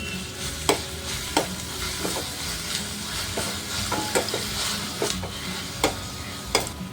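Fenugreek leaves and green chili paste frying in a pan, a continuous sizzle broken by sharp, irregular spoon clacks and scrapes against the pan, close and with no voices.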